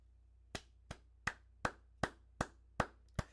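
Eight sharp handclaps at a slow, steady pace, evenly spaced and close by, each a crisp isolated slap over a quiet background, sounding like a single person's sarcastic applause.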